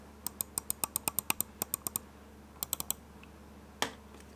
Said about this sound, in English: This is how a normal mouse would sound when you click it.